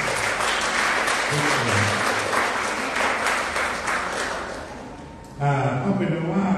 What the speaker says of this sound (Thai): เอาปรบมือให้แก่กันและกัน